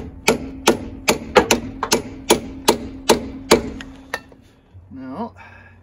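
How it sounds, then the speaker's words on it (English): Metal hammer striking a truck driveline in a workshop, about a dozen sharp ringing clanks in an uneven rhythm, close and loud, ending with a brief mechanical rattle. "So at least now I'm using a proper hammer"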